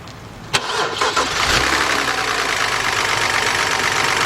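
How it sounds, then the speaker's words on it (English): A 2007 BMW 328xi engine with a ticking noise cranks briefly, catches, and settles into a steady, fairly loud idle close by. "All right, so we're gonna start this vehicle up."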